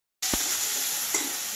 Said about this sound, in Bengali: টমেটোটা আমি হালকা করে ভাজে নিয়েছি